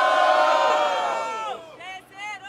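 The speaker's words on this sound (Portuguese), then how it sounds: "Quem acha que PT foi melhor, faz barulho" A crowd at a rap battle cheers and shouts in a loud, close burst that fades after a second or so, with a few whoops trailing off at the end.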